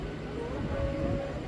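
Steady low rumble and rolling noise from a Bardhaman–Katwa local passenger train in motion, running continuously at even loudness with a faint tonal whine above the rumble.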